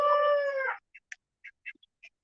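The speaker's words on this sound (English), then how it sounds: "While you guys enjoy listening to the ducks, the chickens, everybody else." Farmyard fowl in a chicken yard with ducks nearby: a long harmonic rooster-like crow at the start, then several short, separate clucks and calls at moderate distance, with no talk.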